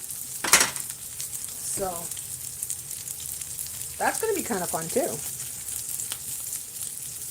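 Ground beef and bacon meatballs sizzle steadily in a sticking frying pan, a constant close hiss with brief scraping stirs, while a person talks intermittently over it.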